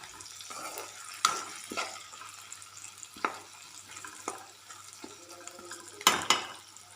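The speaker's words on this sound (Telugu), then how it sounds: "మిరపకాయలు మరీ మాడకుండా ఇలా ఫ్రై అయితే సరిపోతాయి" Dried red chillies fry in a pan while being stirred, giving soft crackling hiss with scattered scraping clinks and a louder clatter near the end, close and without talk.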